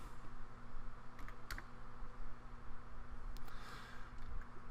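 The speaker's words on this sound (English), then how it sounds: "Wow, I can type." Typing on a computer keyboard, with quick irregular clicks and clusters of keystrokes, a few louder taps standing out over a low steady hum, close and fairly quiet, with no voice.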